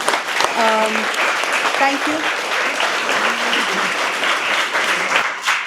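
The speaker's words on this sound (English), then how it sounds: "I just wanted to ask you for a big round of applause for this panel" An audience applauds a panel after a talk on India through iconic maps, a loud, steady wash of clapping throughout, with a voice thanking them over it.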